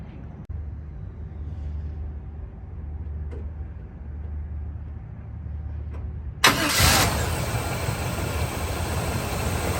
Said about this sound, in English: we will fire it up now and then drive it